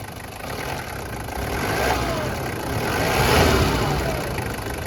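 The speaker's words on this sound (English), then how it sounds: "Go ahead and rev it up a little bit." A Toyota engine with a loose belt and worn motor mounts revs up from idle in two swelling pulls, steady and close, with a faint whine running underneath.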